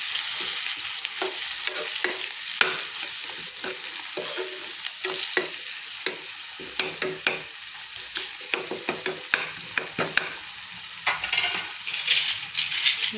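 Spice masala frying in oil for a Maharashtrian dish, with a steady sizzle and repeated scraping and clinking of a spoon stirring in the pan, close and without talk.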